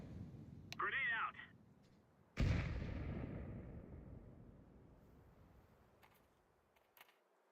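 A grenade explodes in the video game Counter-Strike 2, a single sudden heavy boom with a long rumbling decay. A brief chirping sound comes just before it, and a couple of faint clicks follow it.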